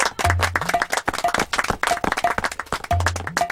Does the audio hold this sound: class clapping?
yes